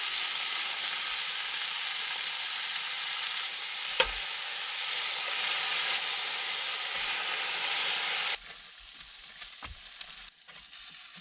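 Bacon for a sandwich fries loudly in a pan inside a car during stealth camping, a dense close sizzle with a sharp knock, then suddenly dropping to a quieter crackle.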